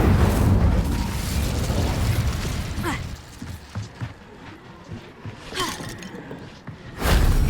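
An Incendio fire spell bursts in a Hogwarts game with a whooshing blast, followed by fainter crackles and pops, then another loud surge at the end, with a voice faintly present.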